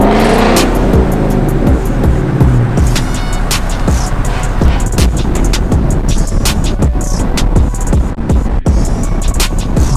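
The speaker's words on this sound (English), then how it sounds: "It's actually my first time experiencing an American muscle car" A Ford Mustang GT V8 muscle car with 435 horsepower accelerating hard, a loud, dense engine roar with rapid clattering pulses and gear changes, close up and sustained throughout.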